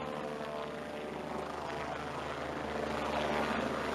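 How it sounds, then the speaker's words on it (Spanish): National Police helicopter lifting off during a rescue of stranded residents in Carapongo, its rotor and engine roar loud and continuous, steady and near throughout. "se eleva entonces el helicóptero"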